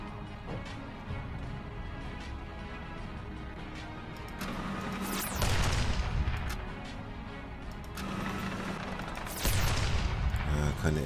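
Artillery fire in the strategy game Codex of Victory, with heavy booming impacts and rumbling blasts over a steady battle din, growing louder in two surges.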